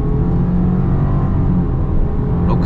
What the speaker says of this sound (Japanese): ここから、ちょっと床まで踏んでみたいと思います。 床までドン!